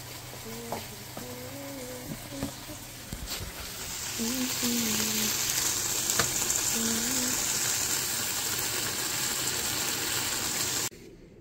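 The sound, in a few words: frying garlic fried rice in a pan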